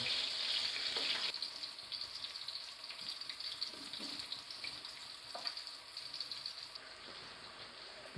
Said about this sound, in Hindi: प्याज को मैंने डाल दिया और जब प्याज हमारा हल्का फ्राई हो जाएगा